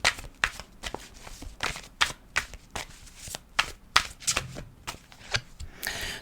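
Tarot cards being shuffled and slapped down in quick, uneven bursts of crisp flicks and snaps, close up, with no talking.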